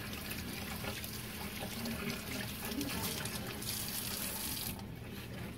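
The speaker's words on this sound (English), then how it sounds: "Start by washing your hands." Tap water runs steadily for handwashing with water only, a continuous close splashing hiss from a sink faucet that holds even throughout, with no talking.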